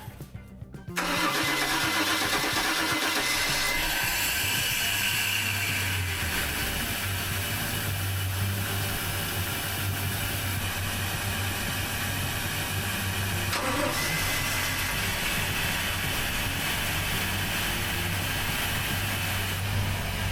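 A boat engine cranks and catches within a second, then settles into a loud, steady rumbling idle that continues with a mechanical rattle throughout.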